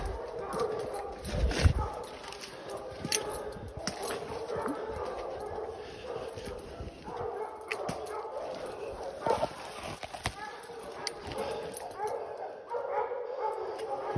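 Hunting dogs bay and bark at a treed bear in autumn woods, intermittent barks and yips at middle distance while people talk and move through the brush nearby.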